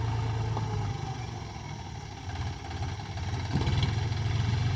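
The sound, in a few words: tractor engine running while loading manure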